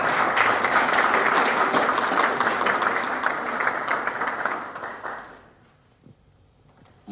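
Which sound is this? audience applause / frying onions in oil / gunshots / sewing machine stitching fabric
audience applause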